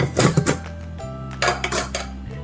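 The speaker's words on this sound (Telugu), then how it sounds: "కుక్కర్ విజిల్ తీసి చూపిద్దాం." Metal pot and cooker parts clink and clatter sharply several times as a pressure cooker whistle is lifted off, with brief ringing tones between the knocks, close and fairly loud.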